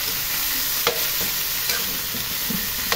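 Chicken for pineapple chicken adobo being stirred and fried in a kawali: a continuous close sizzle broken by a few sharp spatula scrapes, with no voices.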